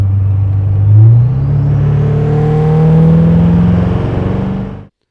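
A deleted LML diesel pickup truck accelerating hard in tow haul mode, a loud, close, sustained engine roar climbing steadily in pitch with a brief shift near the start, cutting off abruptly at the end.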